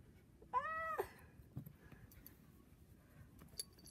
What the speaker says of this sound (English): She's just such a good kitty.